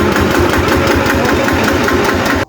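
A farm tractor's diesel engine running, a loud, close, steady rhythmic chugging that knocks at an even pace for a couple of seconds before cutting off abruptly.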